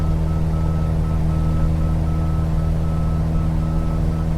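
A cockpit warning tone beeps on and off in Microsoft Flight Simulator 2020, a thin electronic signal sitting above the steady, loud drone of the small aircraft's engine, with no talking.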